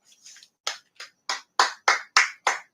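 Quick two-finger claps, about eight sharp close taps in a fairly even rhythm, growing slightly louder, with a couple of soft rustles at the start and no talking.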